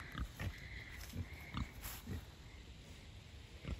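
Pigs grunt and oink repeatedly on a farm at feeding time, low, irregular snorts and grunts coming in short bursts, fairly quiet and close, with no one speaking.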